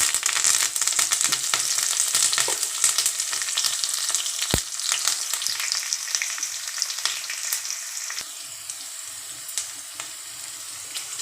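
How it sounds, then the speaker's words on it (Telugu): Onions with curry leaves frying in oil with salt and turmeric, a loud, close, steady sizzle with dense crackling and a few sharper pops, easing slightly toward the end. "సాల్ట్ పసుపు ముందే వేసి ఫ్రై చేస్తున్నాం"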